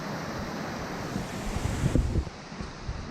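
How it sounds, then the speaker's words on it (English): A small waterfall on the Finsterbach in Austria gives a steady, broad rush of falling water that stays even throughout, with gusty wind buffeting close to the microphone and no voices. "This is the waterfall."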